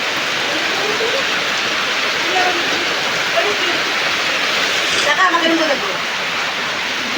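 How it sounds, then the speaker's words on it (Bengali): Steady, dense rain hisses close by with a constant wash of patter, while faint voices murmur briefly underneath. "হচ্ছে বৃষ্টি"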